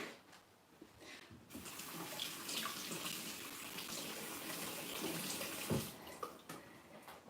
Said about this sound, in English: I'm gonna wash the egg off my hands because I don't like that.